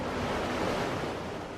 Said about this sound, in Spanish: Por desgracia, el mar está demasiado picado